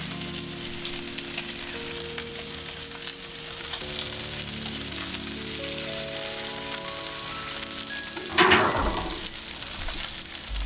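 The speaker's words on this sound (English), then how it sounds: "when they're cooking like this on their shell side, the flavors will really seep in and caramelize" Crayfish tails cook shell side down in a hot pan, a steady close sizzle with faint tonal hums underneath and a brief louder crackling burst toward the end, no speech.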